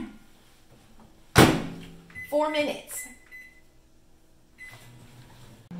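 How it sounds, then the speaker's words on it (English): A microwave door shuts with a sharp thunk, followed by beeping keypad presses and a low running hum as peanut brittle cooks on high, with a brief spoken phrase over it. "get it in the microwave"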